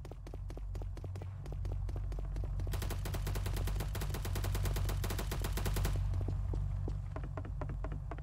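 Rapid automatic gunfire from a weapon in the Roblox game BlackHawk Rescue Mission, with bursts of closely spaced, punchy shots that grow into a dense sustained stream before thinning to separate rounds.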